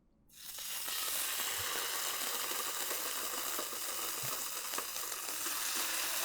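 Tuna steaks hit a piping hot skillet: a sudden burst of loud sizzling that then holds as a steady, close searing hiss with faint spits and crackles.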